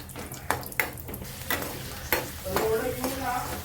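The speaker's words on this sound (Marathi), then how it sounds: "शेंगदाणे सुद्धा तळून घेऊया." Peanuts fry in hot oil, meant for Maharashtrian kande pohe, giving a soft continuous sizzle punctuated by several clear scraping clicks of stirring against the pan.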